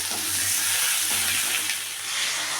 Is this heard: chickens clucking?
no